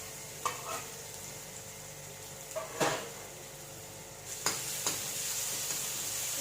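Crushed garlic drops into hot oil for Kerala sambhar and sizzles with a soft, steady hiss. A few sharp clinks of a spoon against the pan cut through, with no talking.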